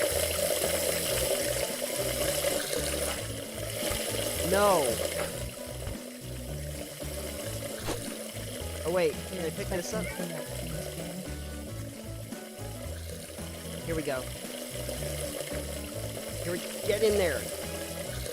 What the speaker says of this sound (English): I'm gonna see if I can fill the pot up with water.